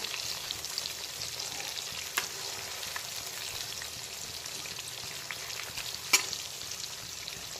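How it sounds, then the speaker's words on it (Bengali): Flipped pieces of katla fish fry on their second side in a pan over a full flame, a soft continuous sizzle and crackle with occasional louder spits of oil and no talking. "এখন মাছের উল্টো দিকটাকেও একইভাবে ভেজে নেব।"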